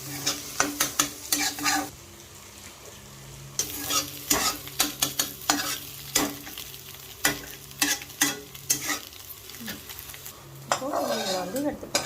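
Goat blood with egg and pepper is stirred in a frying pan, a spoon scraping and clinking against the metal in quick irregular bursts over a soft sizzle, close up with no talking.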